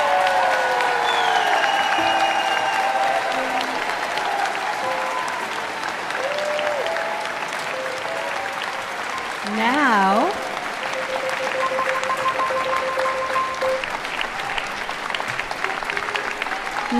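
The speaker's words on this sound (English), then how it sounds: "join me in a round of applause, which we've already done, but we can do it again, for the graduating class of 2023." Sustained applause from a convocation audience for the graduating class at Emily Carr University, a steady wash of clapping throughout with brief voices and whistles mixed in.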